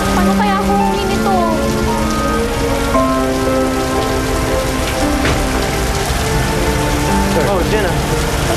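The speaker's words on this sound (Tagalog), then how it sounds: "Ang lakas ng ulan." Heavy rain pours steadily, a dense constant roar of drops drumming on a surface, loud and close throughout.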